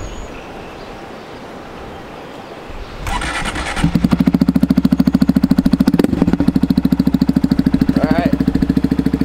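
A Honda Monkey motorcycle engine cranks and fires up after a quiet stretch, then settles into a loud, close, steady putting idle while it warms up, with someone speaking briefly before it starts.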